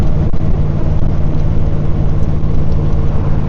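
A 1956 Ford Thunderbird with a 312 Y-block V8 drives along a road, its engine a loud, steady low rumble heard from inside the car, with no talking.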